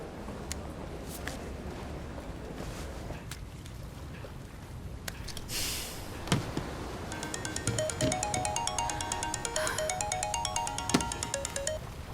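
A phone ringtone, a repeating electronic melody that starts partway through after some rustling and steps, then keeps ringing steadily to the end at moderate loudness.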